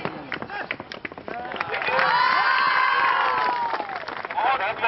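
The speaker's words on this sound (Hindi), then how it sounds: "जोरदार तालियों में" An audience at a horse sports show breaks into loud applause and cheering, the clapping swelling to a dense roar mid-way amid crowd voices.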